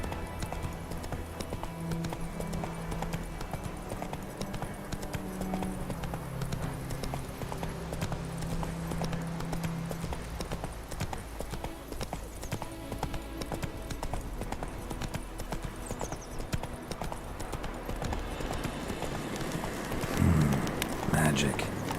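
A horse gallops in The Witcher 3: Wild Hunt, its hooves pounding in a rapid, continuous clip-clop rhythm across the whole stretch, with game ambience and a brief voice underneath.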